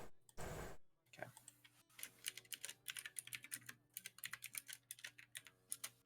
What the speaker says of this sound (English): typing and not copying and pasting